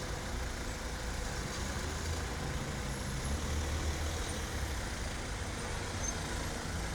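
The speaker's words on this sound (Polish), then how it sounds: "Kierowca zignorował informację i wjechał w Pierackiego" A car rolls along a city street with a low, steady engine rumble and tire noise, mixed with faint surrounding traffic throughout.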